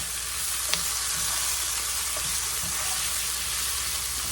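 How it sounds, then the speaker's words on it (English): Potatoes coated in taco seasoning fry in a pan for an enchilada breakfast casserole, giving a steady, close sizzle with no talk and a faint clink or two of stirring. "Get these potatoes all cooked up."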